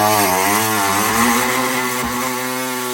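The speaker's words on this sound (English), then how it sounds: "I can cut it with a cut-off wheel" A cut-off wheel grinds through the rusty steel floor pan of a 1989 S10 pickup, a loud, steady high-pitched whine close by with slight pitch dips as the disc bites, no talking.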